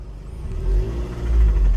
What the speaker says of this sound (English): started it, engine sound like this